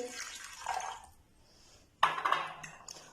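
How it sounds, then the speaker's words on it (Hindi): Lukewarm water poured into ghee in a mixing bowl for samosa dough, making a quiet splash and trickle with a brief clink, a short pause, then a second louder burst of pouring. "अब जो मेरे पास जो है वो 1/2 कप नीम गर्म पानी है, वो इसमें शामिल करेंगे"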